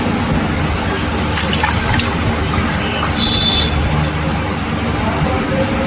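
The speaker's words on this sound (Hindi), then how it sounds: "इसमें पानी डाल देते हैं।" Plain water poured into a stone mortar to wash out mercury, a trickling splash over a background of road traffic, with a brief higher whistle partway through.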